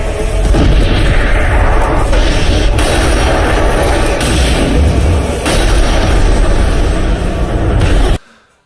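Obelisk the Tormentor god card's Fist of Fury attack in the Yu-Gi-Oh! The Sacred Cards video game: a loud, sustained rumbling blast of booming, explosive game effects lasting about eight seconds before cutting off abruptly.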